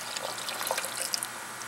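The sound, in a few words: dye water pouring out of bed sheet cloth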